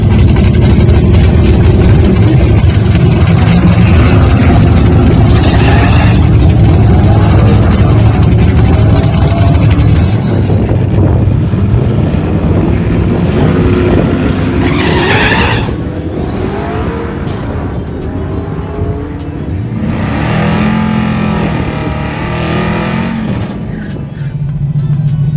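A turbocharged LS-swapped Mustang runs hard on a race track, its loud engine roaring and revving continuously through gear changes, close and dominant for the whole stretch with no speech.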